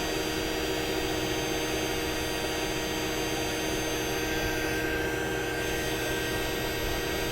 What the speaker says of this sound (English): let's go ahead and add in this heat gun also